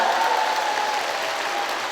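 A sustained burst of applause from an audience at a women's singing class event, many hands clapping steadily and fairly loudly throughout, without speech over it.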